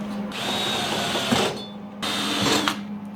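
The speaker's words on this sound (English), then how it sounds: "I drilled them right where you marked." A power drill whines steadily, pausing briefly midway and then resuming, with grinding scrapes as the bit cuts through the metal of a shop crane lifting eye hook.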